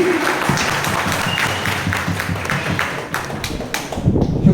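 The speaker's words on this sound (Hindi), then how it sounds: "एक बार जोरदार तालियां प्लीज।" Loud, close applause from a meeting audience, rapid overlapping claps with some thumps, rising and thinning slightly before swelling again at the end.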